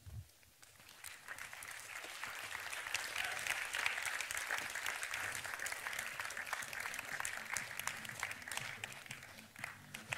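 A live audience applauds steadily for about ten seconds as a guest walks onto the stage at a consciousness talk event, the dense clapping swelling slightly and then holding at a constant, moderately distant level.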